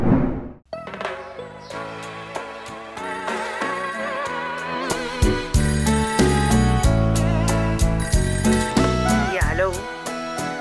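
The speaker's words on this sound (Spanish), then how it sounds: "Luigi, teléfono!" A telephone rings loudly as part of a Spanish-language news programme, its tones overlapping music and other studio audio for about ten seconds.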